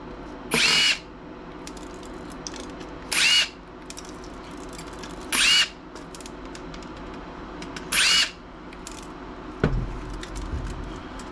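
A power driver unscrews screws from a Dell Latitude laptop during scrapping, four short high-pitched whirring bursts evenly spaced, then a dull knock, all close up with no talking.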